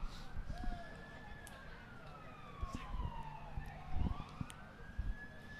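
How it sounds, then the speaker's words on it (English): At a varsity soccer game, a siren wails in the distance, its pitch sliding up and down as it passes, faint under some nearby knocks and murmuring. "there's our first siren of the game"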